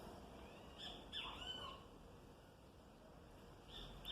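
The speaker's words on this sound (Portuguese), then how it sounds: "Os pássaros já indo dormir." Birds call at dusk over a city neighbourhood: a few faint, brief chirps and whistles drift in and out over a steady low background hum, with no voices.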